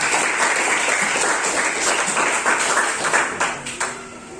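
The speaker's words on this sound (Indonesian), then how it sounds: "Tepuk tangan buat ini." Applause from a class of students in a classroom lesson, a dense burst of clapping that tapers off toward the end with a few scattered claps.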